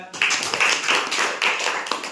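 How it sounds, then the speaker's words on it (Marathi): A classroom group claps for a student after a word-memory game, a burst of overlapping handclaps lasting about two seconds with rhythmic surges, fairly close and loud, with no talking over it. "गौरवसाठी टाळ्या"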